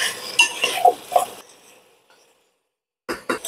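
Utensil scraping and clinking against a cooking pan while tomatoes are stirred over a low flame for a chicken stew, a cluster of close stirring sounds followed by a pause and a brief burst of renewed stirring.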